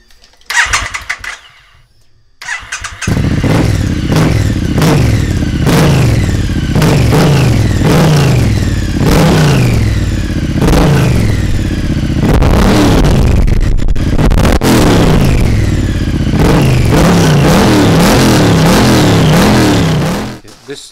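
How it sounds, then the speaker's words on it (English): Triumph motorcycle fitted with straight-through Vance and Hines cans and an X pipe starts up, then revs loudly and repeatedly in rising and falling bursts close to the microphone before settling and cutting off. "We've got the straight through Vance and Hines cans on with the X pipe fitted, so this should be a bit louder than before."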